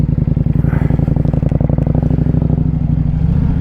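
A 2025 Indian Scout motorcycle rides along with a loud, close engine drone whose throttle pulses come through as a rapid, even rhythm, holding steady throughout with no talking.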